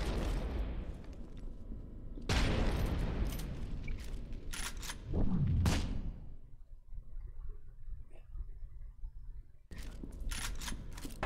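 Shotgun blasts in F.E.A.R. 2 fire in loud, sharp bursts with booming low ends. A heavy volley comes first, then a quieter stretch with faint noises, and a final loud crack near the end.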